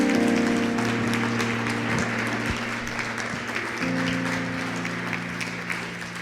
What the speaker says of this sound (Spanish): Dale un fuerte aplauso a Dios esta mañana